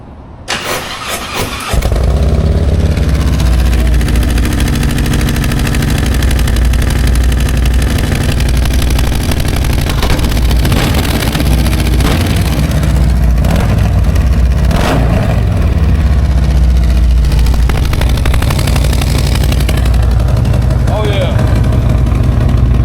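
A motorcycle engine starts and settles into a loud, steady idle close by, running continuously for about twenty seconds with a rough, throaty rumble and occasional blips.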